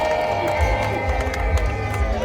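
Crowd applauding the Dar es Salaam girls' basketball winners at the UMISSETA national school games, a brief burst of clapping and cheering mixed with crowd babble.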